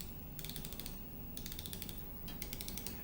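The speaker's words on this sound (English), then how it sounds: "Make use of the ratchet on models that have this feature." Bursts of fine, rapid clicking come from a precision micrometer's thimble ratchet, heard three times in short runs over a quiet, low background hum, close and fairly soft.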